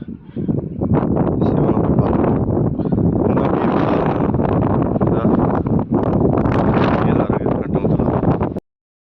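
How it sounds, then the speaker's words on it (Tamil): Strong wind blowing hard across a bare rocky mountain slope on the climb to a hilltop temple, a loud continuous roar and buffeting against the microphone for the whole stretch, with no speech heard. "காற்று அந்தளவுக்கு அடிக்குது"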